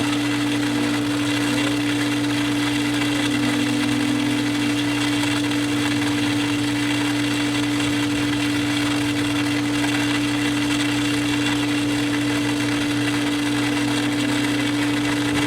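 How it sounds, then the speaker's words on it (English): A swimming pool filter pump running during backwash, a loud, steady motor hum with strong tonal drone and constant rushing water noise, close and unbroken throughout with no talk. "And turn the pump on again."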